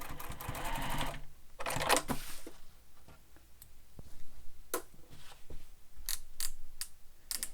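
A sewing machine topstitches through lining and seam allowance in short bursts of rapid mechanical stitching, separated by quieter pauses and light clicks, fairly close and moderately quiet.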